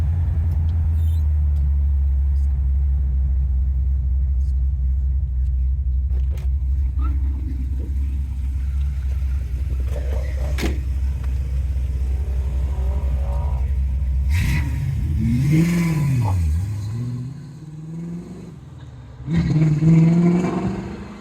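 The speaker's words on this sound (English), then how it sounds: "that exhaust sounds so good" A 1955 Chevy 210 gasser's 350 V8 idles with a deep, steady rumble for a long stretch, then the exhaust revs up and falls back in a couple of throaty bursts nearby.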